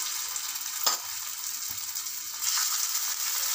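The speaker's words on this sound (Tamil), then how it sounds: "நிறைய எண்ணெய் ஊற்றி இப்போ வறுக்கணும்." Raw plantain frying in plenty of oil on a dosa pan, a bright continuous sizzle with two soft utensil knocks, swelling slightly louder toward the end, close and without talking.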